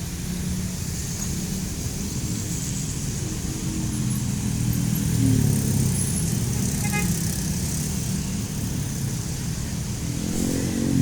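A Mercedes-Benz OH 1626 bus with a Laksana Neo SR3 Panorama body rumbles at a small roadside bus terminal, a steady low engine drone under faint traffic noise, with a brief high tone partway through.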